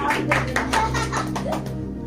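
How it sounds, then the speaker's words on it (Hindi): A group claps at a church service in a short, rhythmic series of hand claps under a steady low hum, with a few voices in the background. "तालियां मारो।"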